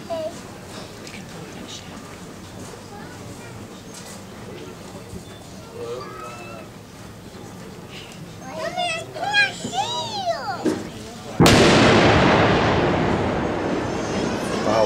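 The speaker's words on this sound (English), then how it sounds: "you'll see a white Connex which doors will be blown open using the flex linear charge" A flex linear charge detonates to blow open the doors of a white Connex shipping container at a Ranger demolition demonstration, one sudden loud blast that follows children's chatter and lingers as a long, fading roar.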